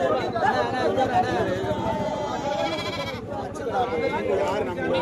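Young Mayilambadi sheep lambs bleating at the Paramakudi goat market, overlapping cries amid constant crowd chatter and bargaining voices throughout, dense and busy with no pause.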